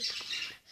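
A harsh, continuous bird squawk in the game Lordz.io fills the short moment, loud and shrill, fading slightly at the end.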